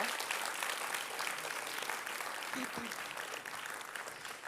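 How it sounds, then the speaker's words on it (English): Sustained audience applause at a school presentation night honouring first grade premiers, a dense even wash of many clapping hands filling the room throughout, with a brief murmur of voices near the end. "A big round of applause for the first grade premiers of 2024"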